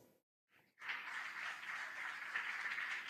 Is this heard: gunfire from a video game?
no